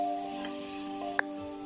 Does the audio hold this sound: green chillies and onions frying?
yes